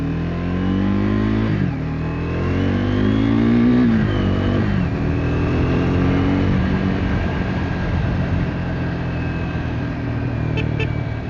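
The engine of a Triumph 400 modern classic motorcycle revs up and down in a few swells, then holds a steady drone near the microphone, with no talking.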